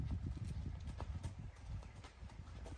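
A horse's hooves clip-clop in a steady, fast rhythm, close and fairly loud over a constant outdoor rumble, with no clear talking.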